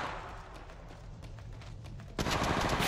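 Automatic gunfire in the Apex Legends video game, a rapid string of close shots that swells into a louder, denser burst at the end, with no talking.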